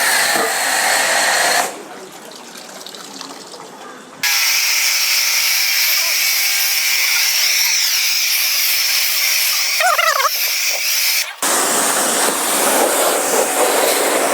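An automatic washer sprays water over a vehicle during a one-bucket wash, its motor whining over a steady rushing hiss that cuts in, drops to a quieter stretch, then surges again for a long continuous burst before easing off.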